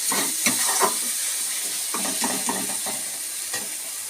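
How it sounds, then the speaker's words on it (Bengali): Spice masala fries in oil in a pan, giving a constant bright sizzle, while a utensil stirs it in short scraping bursts that come in two clusters. The sound is close and there is no talking. "এই সমস্ত মশলাগুলোকে আমি আবার একটু নাড়িয়ে ভালোভাবে কষিয়ে নেব।"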